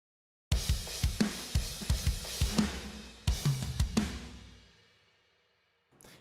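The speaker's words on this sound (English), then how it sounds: "I'll play just the drums for you so you guys can hear." A death/thrash metal drum track pounds out loud kicks and crashing cymbals in a steady pattern, with reversed swells breaking in midway, then rings out into a long fading decay.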